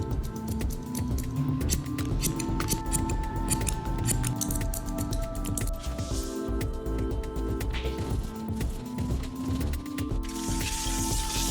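Scissors snip repeatedly through hair during a flow haircut, a steady run of close, crisp cuts over a dense background of music.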